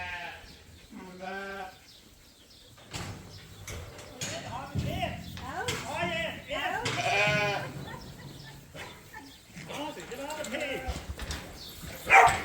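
Several ewe lambs bleat repeatedly in a barn, wavering cries overlapping one another, while people talk nearby.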